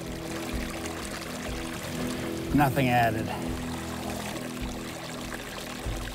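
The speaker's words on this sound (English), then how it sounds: "cold spring water that comes right out of the mountain" Cold mountain spring water pours out steadily in a continuous splashing stream, with a brief louder gush near the middle, while someone talks over it.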